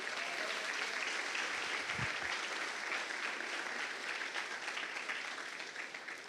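A church congregation at a Brazilian Portuguese conference applauds in praise: continuous, fairly distant crowd clapping with a low, even intensity and a faint low thump partway through.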